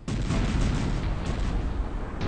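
Cannons fire repeatedly in the strategy game Cossacks 3, a dense run of heavy booms that overlap into a continuous low rumble with no talking.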